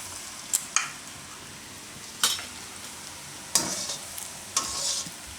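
Green chickpea bhajiya fritters fry in hot oil with a soft, constant sizzle, broken by several sharp clinks and scrapes of stirring at irregular intervals.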